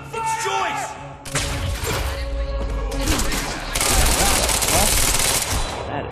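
Loud, sustained automatic gunfire and bursts of shots in the shooter game Quantum Break, with explosive impacts and shouted voices mixed through the firefight.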